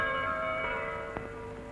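Church bells of the Saint-Victor basilica in Marseille ring with sustained, humming overtones, a fresh strike landing near the end, heard at moderate distance in a quiet setting.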